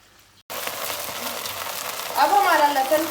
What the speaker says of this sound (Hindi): अब इन्हें हमने थोड़ा सा सौते करना है।